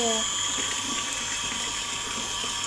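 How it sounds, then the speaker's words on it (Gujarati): A household water pump motor runs as water flows into a storage tank, making a constant hum and rushing stream that stays steady and fairly loud from start to finish. "મોટર ચાલુ કરી દીધી છે તો અહીંયા બધી પાણી જાય છે"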